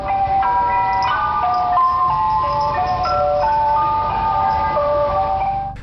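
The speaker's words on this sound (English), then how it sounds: "this demonic ice cream van shows up every single day at his apartment complex" A creepy ice cream van that turns up every day at an apartment complex plays its chiming melody, a loud, steady run of bright music-box notes that continues without a break and with no talk over it.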